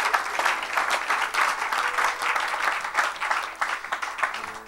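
A church congregation applauds together at a Saturday service, steady dense clapping that keeps going throughout with a few voices mixed in.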